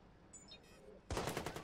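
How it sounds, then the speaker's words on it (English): Burst of rapid gunfire erupts in a Watch Dogs shootout, loud and dense, following a quieter stretch of faint game sounds with a few high chirps. "Ow, where am I getting shot from?"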